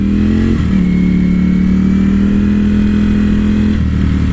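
A Ducati Panigale motorcycle engine hums at a steady mid pitch while riding a twisty canyon road, with a brief dip in tone near the start and a loud, continuous drone.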